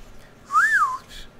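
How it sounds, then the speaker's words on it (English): A character in Animal Crossing: New Horizons whistles a single short rising-and-falling tone, clear and close, with quiet game ambience around it. "How did I just whistle by saying, did you hear that?"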